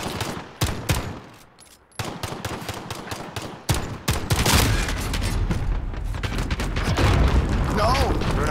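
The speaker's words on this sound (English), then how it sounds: "switch to your pistol and get shots off first" Pistol fire in Call of Duty Modern Warfare, Plunder mode, comes as rapid, loud shot bursts amid dense, continuous battle noise, with a player talking over the action.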